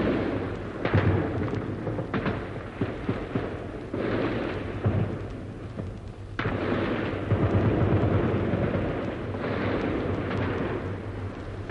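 First World War artillery fire sounds as a series of heavy, rumbling booms and blasts, some sharp and close, others rolling and distant, overlapping in irregular bursts with sustained low roaring between the shots.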